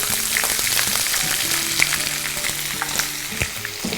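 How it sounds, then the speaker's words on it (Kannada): Onions and garlic fry in a hot pan with a loud, steady sizzle, while occasional scrapes and clinks of stirring rise above it. "ಈರುಳ್ಳಿ ಹಾಕೊಳ್ಳೋಣ."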